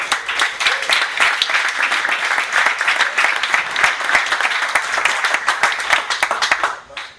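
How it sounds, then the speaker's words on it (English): An audience at a reception applauds donors, loud dense clapping sustained for several seconds before fading out at the end. "let's give a round of applause for them"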